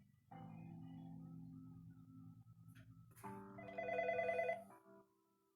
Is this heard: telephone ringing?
yes